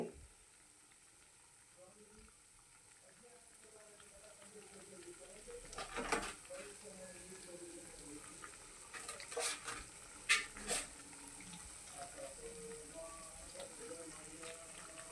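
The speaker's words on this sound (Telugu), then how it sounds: "అలాగా ఈ రకంగా బ్రౌన్ కలర్ వచ్చేదాకా ఏపుకోవాలండి" Bread bajji frying in hot oil, a soft steady sizzle and bubbling with a few sharper crackles and spatters partway through, quiet and close with no talking.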